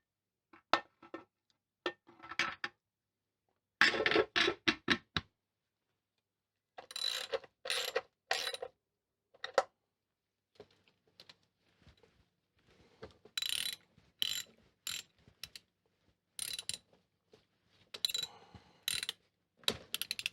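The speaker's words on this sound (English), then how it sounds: "So now I can happily put the rocker cover back on." Metallic clanks, clicks and rattles of a rocker cover being refitted onto the engine of a 1966 Triumph Spitfire Mk II during a head gasket job, in scattered bursts separated by silences, close and fairly loud, with no talking.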